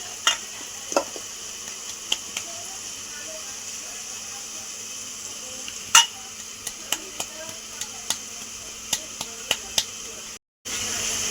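Sabudana khichdi with soaked peanuts mixed in a pan, a low steady background hiss broken by a series of light spoon taps and scrapes against the pan, growing more regular toward the end.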